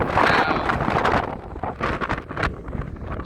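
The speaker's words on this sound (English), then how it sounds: "Plenty of wind" Wind gusts buffet the microphone on the top of One Tree Hill in Auckland, a rough, roaring rush that surges and eases over a few seconds.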